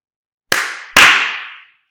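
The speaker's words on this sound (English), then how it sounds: "clapping could be a signal, but then clapping very loudly" Two loud, sharp hand claps, close and crisp, half a second apart; each snaps out and then decays into a short ringing tail, with silence on either side.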